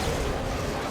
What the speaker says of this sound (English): This is the all-fire of the line gun.